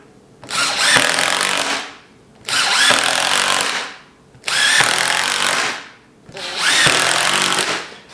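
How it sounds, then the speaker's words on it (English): Power drill countersinking and driving screws into wood while building a skate ledge, four loud close whirring bursts of about one and a half seconds each, separated by short quiet gaps. "Now I'm going to countersink the whole thing and then screw the whole thing"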